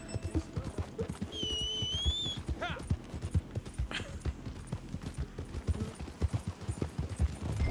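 Horse hooves in a video game clip-clop in a steady, busy rhythm throughout, as if approaching, with a brief whistle early on and faint vocal sounds scattered over the ground noise.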